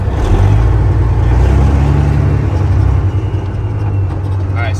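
Hood-stacked Peterbilt semi pull truck with a high-horsepower engine accelerating, a loud deep roar heard from the cab that holds steady, with speech over it.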